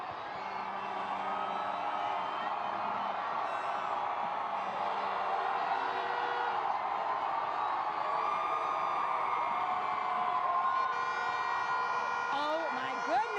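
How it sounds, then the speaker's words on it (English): A big street crowd at the Houston Astros World Series championship parade cheers and yells continuously, with whoops and a siren-like wail rising near the end, under close excited talk. "This crowd is going insane!"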